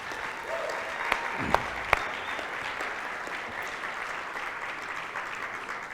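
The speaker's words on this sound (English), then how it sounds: "Can we clap it up for our worship band one more time?" A church congregation applauds its worship band, a broad wash of clapping held at a steady moderate level, with a few sharp knocks and a brief tone cutting through near the start.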